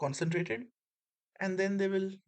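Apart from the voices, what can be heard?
No everyday noise stands out behind the speech.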